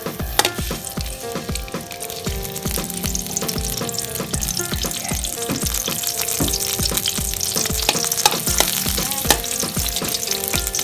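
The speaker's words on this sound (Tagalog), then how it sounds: "Gisa natin ang sibuyas. Sibuyas muna." Onions sautéing in a frying pan while mung bean sprouts are being cooked, giving a loud, steady sizzle with repeated scraping and stirring clatter throughout; no voices.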